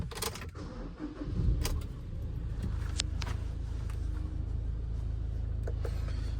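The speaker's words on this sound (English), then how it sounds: "I'll start it up. Insert the key as you would and press the clutch." A Ford Ranger 2.2 is started with the key: keys jangle close by, then the engine cranks and catches into a steady low idle rumble that carries on alone.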